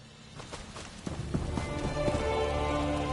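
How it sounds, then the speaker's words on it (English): Rain in the video game Elder Scrolls Online falls as a dense, continuous hiss that swells louder partway through, with soft hoof-like clops mixed in. "I could do without this damnable rain. It's been storming since we arrived, and it shows no sign of letting up."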